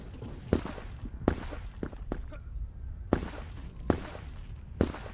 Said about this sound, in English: Oh, someone's got a rocket launcher. I can hear him.